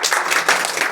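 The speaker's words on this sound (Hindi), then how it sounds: "इसके लिए एक बार ताली बनता है कि नहीं बनता" A classroom of students claps in applause after a maths lesson on squares and square roots, a dense burst of many hands clapping together, loud and close for a brief moment.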